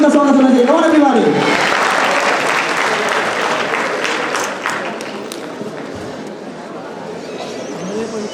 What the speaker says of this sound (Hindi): जोरदार जोरदार जोरदार तालियों से उनका स्वागत होना चाहिए